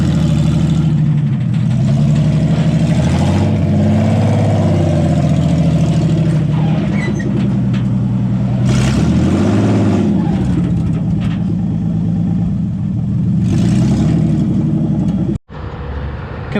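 A car engine with freshly repaired power steering runs steadily and loud at close range, rising in a couple of rev swells before idling on and cutting off abruptly near the end.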